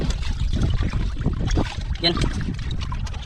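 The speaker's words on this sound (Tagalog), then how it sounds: "Uy, lakas ng hangin mga idol." Strong wind at sea roaring across the microphone aboard a fishing boat, a dense, gusting low rumble with splashing water, while someone briefly speaks.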